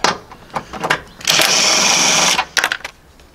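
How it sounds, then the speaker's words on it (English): An electric ratchet spins out 10mm screws on a 2005 Toyota Corolla during a transmission mount job: a loud, close, steady whirring burst of about a second, framed by short clicks and tool handling. "Switch to the electric ratchet because saves time."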